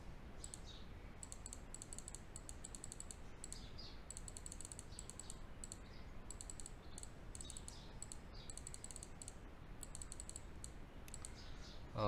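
Faint, quick computer mouse clicks sound in short bursts over a quiet background hiss, with no one talking.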